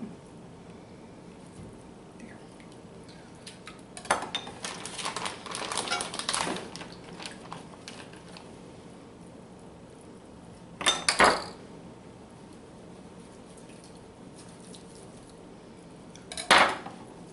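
A knife cuts a large piece of raw shark in half on a kitchen board: scattered clattering knocks and scrapes come in a busy burst, then two sharp isolated clacks follow later, close by with no talking.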